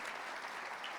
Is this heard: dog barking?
no